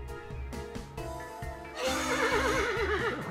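Horse whinny from the video game Yuppie Psycho, a loud wavering neigh rising over steady game music and clip-clop beats, holding strong through the second half.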